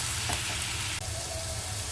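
Cabbage stir-frying with spices in a pan for a fish-head cabbage dish: a steady, close sizzling hiss with soft low crackle throughout, no voices.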